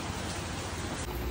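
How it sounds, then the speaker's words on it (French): Steady rain falls in a continuous dense hiss, broadband and close, with no voices and no distinct pauses throughout. "Il fait que pleuvoir depuis hier soir"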